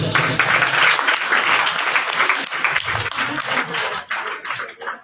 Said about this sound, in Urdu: تالیاں ہو جانا